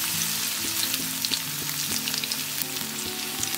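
Cumin seeds and garlic sizzling in hot oil for a spicy onion chutney, a bright, steady close-up crackle with a faint background hum, and no talking.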